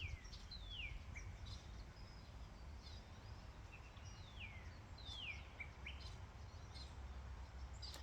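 Birds chirp and sing outdoors, a scattering of brief, fairly faint calls spread across a steady low background rumble, with no one talking.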